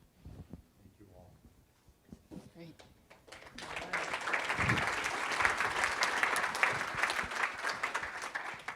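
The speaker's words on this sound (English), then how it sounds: "Let's give them another round of applause." A live audience in Fort Myers applauds a group of women baseball players, the clapping swelling from sparse, scattered claps under talk into a full, sustained round that continues to the end.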